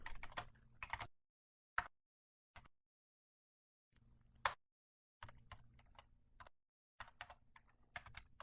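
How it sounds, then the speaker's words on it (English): Quick bursts of typing on a computer keyboard, close and clear, with pauses of silence between runs of keystrokes while code is entered. "I very quickly type it in here."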